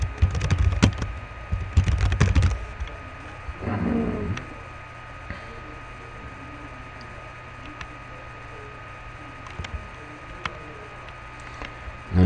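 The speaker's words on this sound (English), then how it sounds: "type in an email address here if you want." Computer keyboard typing while entering an email address on an admin setup screen: a quick flurry of close key clicks at the start, then a long near-silent stretch broken only by sparse faint taps.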